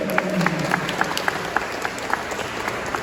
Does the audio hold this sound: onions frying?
no